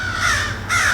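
Haydel's crow call blown outdoors gives two harsh, loud caws in quick succession, a close imitation of a crow's call, with a low background hum underneath.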